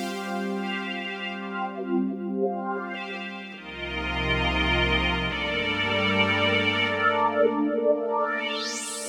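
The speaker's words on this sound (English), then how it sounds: "we can tweak the filter." A Korg microKORG pad sound with its filter being swept by hand, the sustained chords opening and closing in brightness with whooshing tonal sweeps, held notes changing underneath, no speech.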